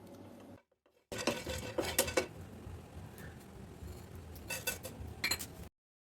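Sunflower seeds are tipped into a pan already dry-roasting pumpkin and watermelon seeds and stirred, giving close, faint clinks and scrapes in two bursts after a short silence, with no talking.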